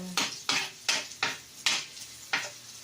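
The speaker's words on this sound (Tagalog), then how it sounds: "Ayan, igisa na natin yung bawang." Garlic sautéing in a pan previously used for frying fish, with six sharp scraping strokes of a spatula against the metal at a steady rhythm over a low sizzle, close and clear, with no voices.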